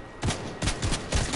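Gunfire crackles in a video game shootout, with several sharp, loud bursts coming in quick succession over about a second and a half.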